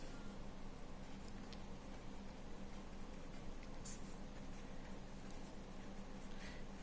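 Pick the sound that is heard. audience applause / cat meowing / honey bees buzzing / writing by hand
writing by hand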